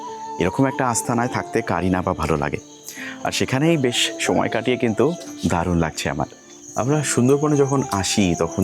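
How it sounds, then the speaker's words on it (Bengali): Crickets chirp at night in the Sundarbans, a thin steady high trill held faintly in the background beneath someone speaking almost continuously. "দূরে ঝিঝি পোকার শব্দ, নোনা হাওয়ার হালকা ছোঁয়া।"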